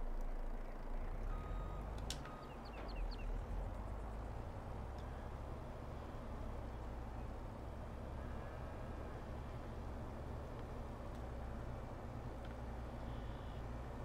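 A lorry in the Farming Simulator 22 game hums along with a low engine drone, and a few reversing beeps sound early on, then the rumble continues steadily alone.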